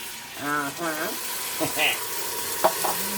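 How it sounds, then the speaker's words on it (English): Reserved tomato juice hits sautéed onions in a pot, producing a soft, continuous sizzle and bubbling under a man's speech. "next we add our reserved tomato juice liquid"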